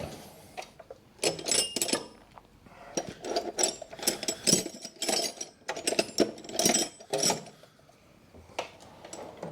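A pneumatic impact gun with an extension works a front suspension lower arm bolt on a 2014 VW Passat 2.0 TDI diesel, giving loud, close, rattling bursts of hammering in repeated spurts.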